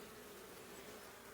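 Steady, dense buzzing of honeybees close by at a mini-plus mating nuc, a continuous drone with no pauses and no voices.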